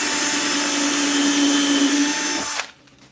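A power drill whines steadily as it bores a pilot hole into wood for a bird box, then cuts off abruptly near the end.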